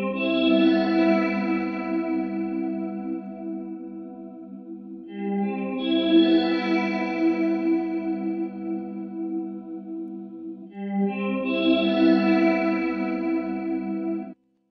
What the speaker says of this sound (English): It's adding an iTap delay with these settings. And then tonal effects, it's adding in a chorus.